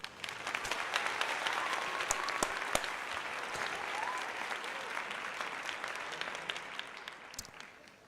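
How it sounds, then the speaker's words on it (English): Steady applause from many hands, fairly faint and distant, spreading evenly throughout and easing slightly toward the end. "That deserves a round of applause."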